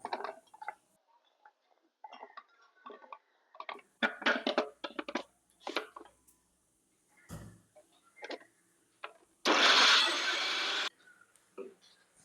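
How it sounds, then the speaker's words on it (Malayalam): Chopped carrot pieces are crushed in an electric mixer grinder in a home kitchen: a single loud, steady whir lasting about a second and a half, preceded by scattered clicks and knocks. "ഇനി അതൊരു മിക്സിയിലിട്ട് ഒന്ന് ക്രഷ് ചെയ്തെടുക്കാം."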